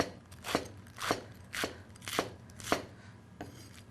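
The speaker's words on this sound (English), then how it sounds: "I'm gonna starting with lettuce, okay? Just dump it all in here. Just slice it." A knife slices through lettuce on a cutting board in six evenly spaced, crisp chops that fall roughly every half second, close and fairly quiet.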